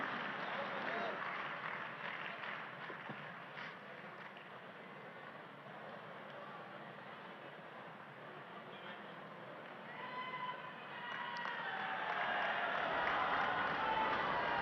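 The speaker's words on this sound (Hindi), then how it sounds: "और तालियों की आवाज के साथ, करतल ध्वनि के साथ आप सबकी शुभकामनाएं भी" Applause from a crowd at a housing key handover ceremony rolls on as a steady, moderately distant wash of clapping, swelling again toward the end.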